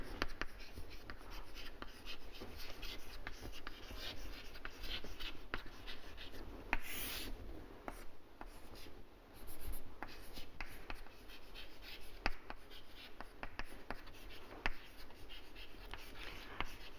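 Handwriting during a lecture on feature selection, a continuous scratchy stroking of pen on a writing surface with brief pauses and taps, close and steady, with no speech over it.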